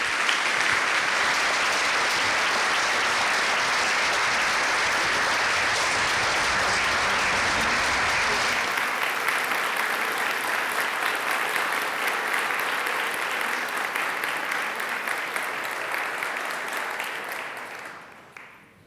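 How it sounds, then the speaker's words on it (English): Sustained applause from a lecture audience in La Jolla as a speaker is welcomed to the stage, dense and steady for most of the stretch, then thinning and fading out near the end. "I'll appreciate this clapping after the lecture."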